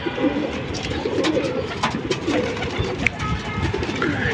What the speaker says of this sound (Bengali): এই যে আমার পাখিটা ডাকতেছে